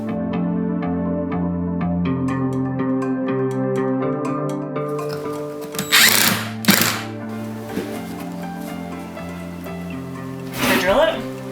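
A drill drives screws into the wooden framing of a tiny house bathroom in a few short, rough bursts, heard over steady tonal background sound.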